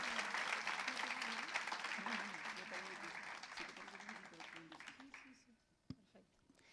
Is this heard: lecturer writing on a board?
no